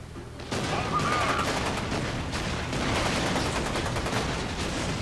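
Turret gunfire in the video game F.E.A.R. 2: loud, dense, sustained bursts of automatic fire running almost the whole time after a brief quieter opening, with a chaotic battle texture.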